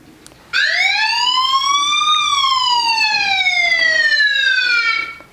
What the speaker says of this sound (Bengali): আমার মুভমেন্টের কারণে এটা অ্যালার্মটি শুরু হয়ে গেছে